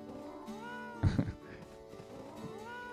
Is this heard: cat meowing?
yes